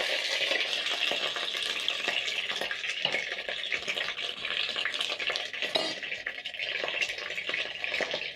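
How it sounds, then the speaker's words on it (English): Oxtail pieces sear in a hot pot for oxtail stew, giving a steady, dense sizzle that runs continuously with no pauses, close and moderately loud, accompanied by occasional faint clinks of a utensil against the pot. "searing the oxtail is going to add in lots of flavor to the oxtail stew"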